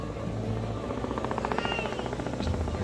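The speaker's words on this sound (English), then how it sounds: "There's a helicopter." A steady, pulsing rotor thump drones throughout, like a helicopter passing overhead, loud and continuous.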